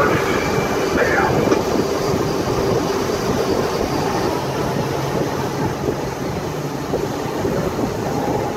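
Submarine ballast tanks venting air as the boat dives off Lahaina, Maui, a steady broad rushing hiss with a low rumble throughout, loud and continuous.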